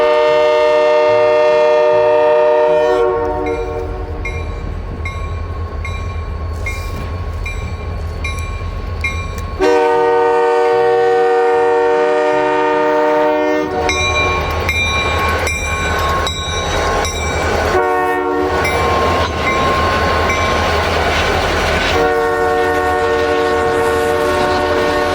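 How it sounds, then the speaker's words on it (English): Freight train led by a quad of ex-Buffalo and Pittsburgh locomotives on the Rochester and Southern passes close by, with loud diesel engine roar, repeated horn blasts and wheel squeal carrying on continuously throughout. "Today's train is sporting a quad of ex-Buffalo and Pittsburgh power."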